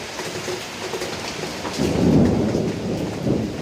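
Steady rain pours down with a low rumble of thunder swelling in the middle, no voices present.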